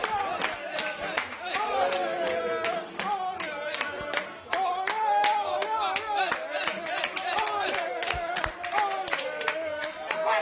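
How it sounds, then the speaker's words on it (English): Crowd clapping and cheering as supporters celebrate a Ghana football goal, a steady mass of rapid claps mixed with excited voices and shouting over several seconds. "And you see the applause and the excitement."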